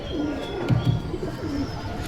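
Pigeons of Teddy breeds coo in low, soft rolling phrases at a bird sale, with a steady background murmur and a few faint chirps.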